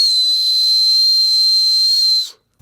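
A car-mounted deer whistle gives off a steady, piercing high-pitched whistle with a hissy edge, held loud and constant for a couple of seconds before cutting off abruptly.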